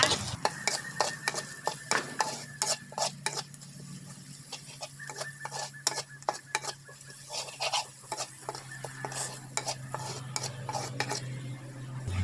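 Red curry paste being stir-fried in a pan, with a utensil scraping and clacking against the pan in a busy, irregular rhythm over a soft sizzle, close up with no talk.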